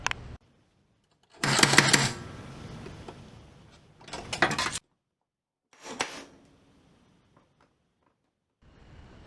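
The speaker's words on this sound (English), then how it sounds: "there's a nail still in it, so I got to pull that out" Nail pulled out of reclaimed wood: a few separate bursts of harsh scraping and squeaking metal against wood, each lasting about a second, separated by silence, close and moderately loud.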